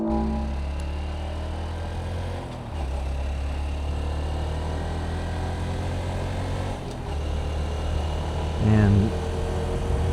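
Honda Trail 125 motorcycle engine while riding on a road, a steady low drone with slight changes in pitch, brief dips as the rider shifts gears, and a short louder surge near the end.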